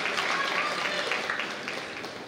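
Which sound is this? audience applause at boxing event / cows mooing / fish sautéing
audience applause at boxing event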